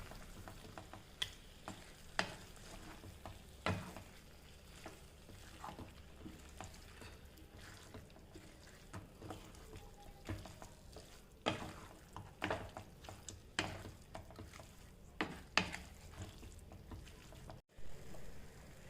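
Chicken pieces being stirred and fried in a pan for fried chicken biryani, a soft sizzle broken by repeated sharp scrapes and clicks of a spoon against the pan, close up with no talk.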